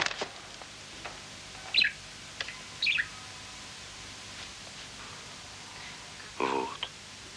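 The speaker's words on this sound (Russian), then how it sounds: "Я попугая принес." A parrot gives a few short, shrill chirping calls, spaced seconds apart, in a quiet indoor scene from a 1988 Soviet film, with soft background noise between the calls.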